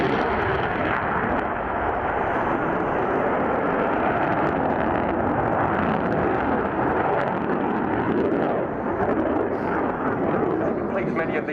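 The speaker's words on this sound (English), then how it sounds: "this is a huge aircraft, and it is flying at typical fast jet speeds of between 350 and 450 knots" A Sukhoi Flanker fighter jet in a flying display at an air tattoo airshow roars as a dense, continuous jet-engine rumble throughout, loud and steady, with a commentator talking over it.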